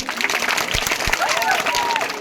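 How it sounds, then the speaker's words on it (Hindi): A crowd applauds a school street play (nukkad natak) at a CM Rise school in Shahpura, Dindori, with dense, continuous clapping and a voice speaking over it. "एक बार जोर से तालियां।"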